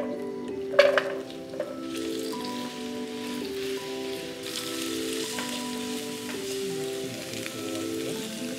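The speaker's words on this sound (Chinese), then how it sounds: "炒到土豆有一点焦香" Potatoes and fatty beef sizzle steadily as they are stir-fried in a pan for a spicy dish, with soft clicks early on and quiet background music underneath.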